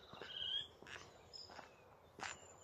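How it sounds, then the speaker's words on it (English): A song thrush sings short, varied phrases of clear whistles and notes, repeated with brief pauses, fairly near and fairly quiet, on a local nature walk, with no talking. "Right, that's a song thrush."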